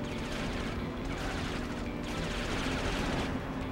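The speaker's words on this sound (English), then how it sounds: "Shooting the army dudes." Soldiers being gunned down in a video game, heard as continuous dense rapid gunfire with a loud, steady rattle throughout and a few surges in intensity.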